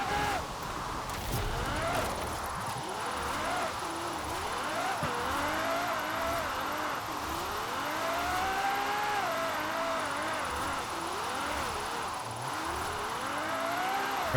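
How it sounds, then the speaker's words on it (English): A racing car engine in the Forza Horizon 4 driving game revs up and down through repeated gear changes, a continuous whining drone with rising and falling pitch sweeps, loud and close. "I wish this game had a little bit more bass to its engine sounds."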